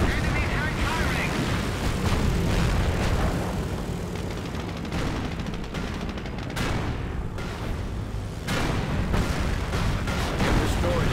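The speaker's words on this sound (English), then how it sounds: "Enemy tank firing!" Dense Company of Heroes battle noise as an enemy tank fires: continuous loud booms, cannon blasts and gunfire overlap with no break. Spoken voice lines come in beneath the barrage.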